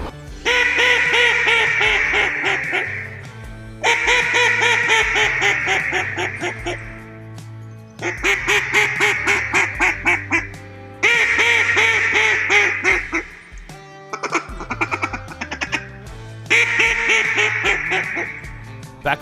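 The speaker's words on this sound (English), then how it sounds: "First, a real hen mallard, and then the Edison in the flooded timber of Arkansas." A real hen mallard quacks, followed by a Beckman Edison duck call blown in flooded Arkansas timber: loud, close runs of nasal quacks in a rhythmic series, heard alone.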